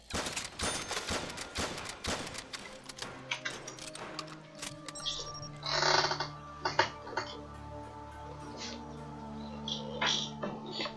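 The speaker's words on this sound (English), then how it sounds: "it will fire fully automatic" Fully automatic gunfire in a Black Ops 3 custom zombies game, opening with a dense burst of rapid shots, then thinning into scattered shots with mechanical sounds and game noise.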